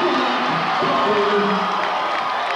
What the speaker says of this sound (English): As you can hear, the Williamson crowd really going wild